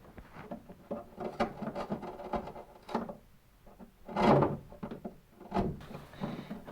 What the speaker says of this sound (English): I start by just kind of doing some plunge cuts with my chisel coming in from the side here.